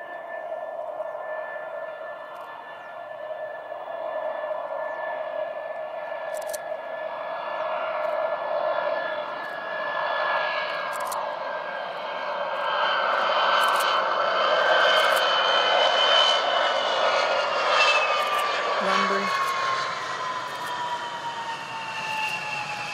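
Vickers VC-10 jet airliner engines whine and swell at Bruntingthorpe, with sustained tones shifting in pitch as power builds over a fairly distant, steady roar.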